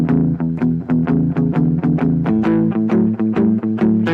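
Electric guitar plays a rhythmic lick with a basic flat seven added, steady repeated picked notes and chords in an even pulse, loud and close with no talking.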